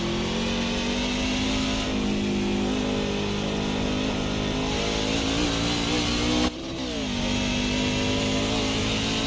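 NASCAR trucks race at Qualcomm Circuit on Naval Base Coronado in San Diego, engines roaring steadily and close by, with pitch shifting as they pass and a brief dip in the noise partway through.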